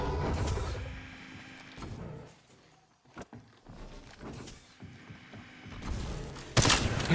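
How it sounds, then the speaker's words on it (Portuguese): Weapon fire in the mobile shooter Apex Legends Mobile comes as bursts of sharp shots, dense at the start and again near the end, with a quieter gap of scattered single reports in the middle. "Disparos feitos com armas."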